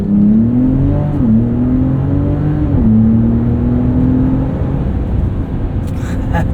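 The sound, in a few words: 2025 Ram RHO truck launching, engine revving and accelerating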